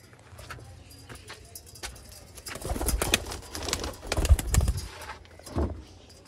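Sialkoti Ali Wale pigeons coo in low, soft repeated phrases close by, mixed with wing flutters and light rustling clatter, rising and falling over a few seconds.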